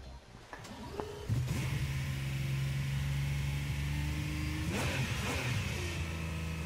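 An Aston Martin DBR9 GT1 race car engine in Gran Turismo Sport holds a steady, loud drone on the Nurburgring Grand Prix circuit, with a couple of brief rev shifts and gear changes rising and falling across the clip.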